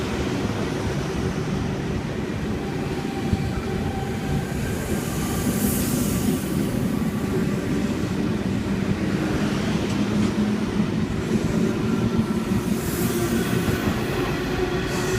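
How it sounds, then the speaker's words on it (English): A Sydney Trains C-set rolls into platform 3 at Auburn station at night, a steady loud rumble of wheels and carriages that holds for the whole stretch, with faint squeals rising now and then above it. "And the C-set arriving into platform 3, front 4 cars, C11,"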